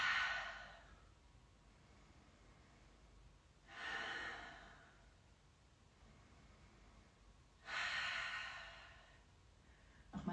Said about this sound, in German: Nochmal tief einatmen.